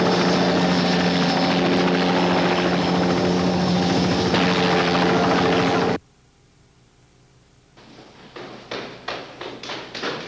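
A police helicopter flies overhead in a 1977 thriller, its loud steady rotor drone filling the first six seconds before cutting off, after which a series of rhythmic thumps and taps builds up.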